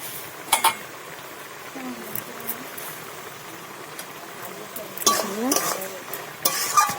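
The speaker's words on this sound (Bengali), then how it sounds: "নাড়িয়ে নিচ্ছি।" A spoon stirs Bengali chorchori, a mixed vegetable dish sweetened with sugar, in a pan, with soft scraping and occasional clinks of utensil on metal over a low background of cooking.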